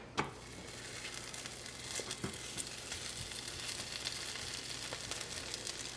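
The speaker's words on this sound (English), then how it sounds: "the griddle is nice and hot, so we're going to go ahead and place" A stuffed paratha laid on a hot griddle sizzles steadily and close by, a continuous crackling hiss with a faint pop at the start and no talking.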